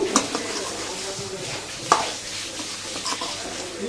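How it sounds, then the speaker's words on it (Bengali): Duck meat fries with spices in a pot, stirred now and then so a couple of sharp utensil knocks punctuate a soft continuous sizzle, close by. "এখানে মাংসগুলো দিয়ে একটু ভালো করে কষিয়ে নেব"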